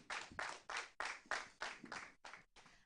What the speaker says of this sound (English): A hand of applause for them,